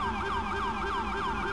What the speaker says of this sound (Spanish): mi coche esta vez no es de la sirena, es del compañero